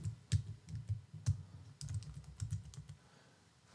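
Quiet, uneven clicks of fingers typing on a computer keyboard come in short bursts, with brief pauses between the taps and no voice over them.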